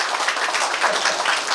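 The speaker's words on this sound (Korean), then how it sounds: "박수 부탁드리겠습니다" Audience applause at a Korean community association launch ceremony, a steady dense patter of many hands clapping at moderate level without pause.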